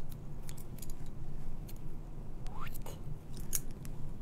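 Scissors snip the tip of a felt craft doll, several short crisp cuts close by over a steady low background hum, with no one talking.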